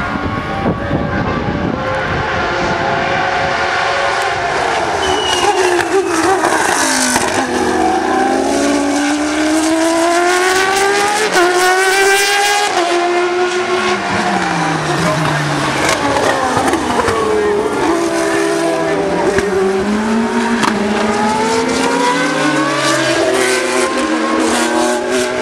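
A light blue Benetton race car screams past on the Zandvoort circuit, its high-revving engine rising and falling through repeated gear changes as it nears and then fades, with another car following close behind while a commentator talks over the roar.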